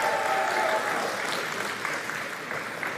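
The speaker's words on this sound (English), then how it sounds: "give it applause for him" Audience clapping steadily in an indoor hall at the POCO F7 launch event, a dense, moderately loud burst of applause lasting a few seconds.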